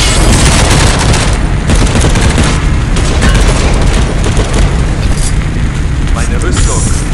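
Grenade blasts and gunfire roar without pause through a World War Heroes match in a submarine map, with dense booms and rapid shots layered loudly throughout.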